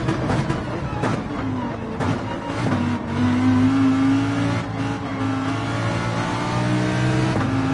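A Lamborghini race car engine in a racing video game revs and drones loudly and continuously, its pitch climbing and shifting through gear changes, with no voices over it.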